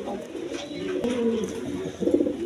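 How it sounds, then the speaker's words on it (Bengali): A pair of pigeons, one exhibition and one beauty breed, both black and nesting on two eggs, coo in low throaty murmurs close by over a steady background hum. "আর বন্ধুগণ এখানে এক পেয়ার কবুতর আছে"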